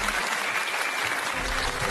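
Audience applause fills an awards-ceremony hall at Weibo Night 2023 as an actress is called up to the stage, a dense, steady burst of clapping lasting throughout.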